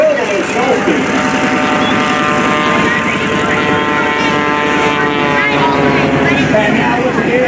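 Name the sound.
aerobatic airplane engine at airshow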